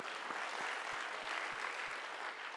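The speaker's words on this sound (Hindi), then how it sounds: "वेरी गुड, तालियां बजाएं।" An audience at a leadership lecture session claps, a faint, distant, steady patter of applause with soft regular thumps underneath.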